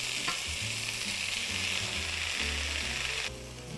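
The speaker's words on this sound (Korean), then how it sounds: "들기름 넣고 바로 넣으셔서 볶으시면 됩니다" Amaranth greens stir-frying in a pan of perilla oil, a steady loud sizzle with soft stirring scrapes throughout, easing off slightly at the very end.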